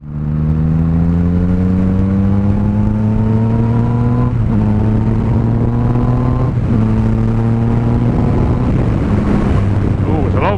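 A 2017 Yamaha MT-09 motorcycle rides along loud and close, its engine note climbing steadily, then breaking briefly three times as the quickshifter snaps through gear changes, with wind buffeting the microphone throughout.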